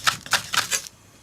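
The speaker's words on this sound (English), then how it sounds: "using a sharp knife, I'm just going to chiffonade them really thin, as thin as you can go" A sharp knife slices thin strips through nori seaweed sheets on a board, giving four quick, crisp, evenly spaced cuts up close.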